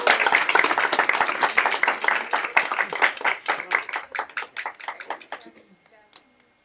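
Audience applause after a candidate's speech fills a room with dense clapping that holds for several seconds, then thins into scattered claps and fades out.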